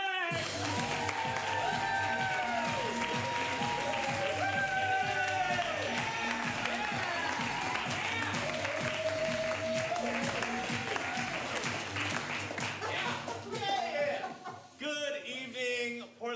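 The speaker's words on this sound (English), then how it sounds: "Let's start a big round of applause." A crowd at a Portland improv comedy show claps and cheers loudly, with whoops and shouting voices riding over sustained applause that dips and breaks up near the end.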